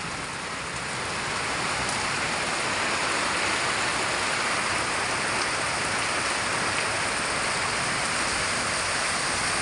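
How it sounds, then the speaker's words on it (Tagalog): Floodwater rushes hard during a downpour in the Philippines on a rainy November day, a dense, continuous hiss and roar of water and rain, steady and close, with no voices. "Look at the current of the water."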